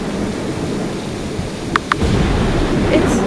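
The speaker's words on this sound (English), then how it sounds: "It's raining? Oh my, sounds like quite a heavy storm." Heavy rain pours steadily through a stormy video game scene, with a couple of sharp crackling thunder hits about two seconds in over a dense, loud, continuous hiss.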